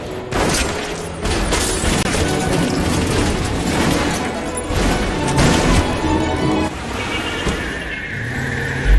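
A brutal film shooting in a basement car park, with masked attackers firing on a man, comes through as a dense, continuous barrage of loud, crashing gunfire and impacts that fills the whole stretch with no clear gaps.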